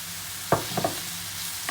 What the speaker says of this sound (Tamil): இஞ்சி பூண்டு வாசனை போகிற வரைக்கும் நல்லா வதக்குங்க